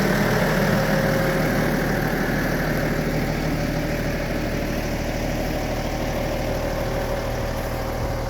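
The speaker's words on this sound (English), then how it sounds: "That's a 130 horsepower two-wheel drive tractor." A Deutz DX 8.30 tractor, a 130 horsepower two-wheel-drive machine, idles nearby with a steady, even diesel rumble and a fine rhythmic throb, running alone with no voices.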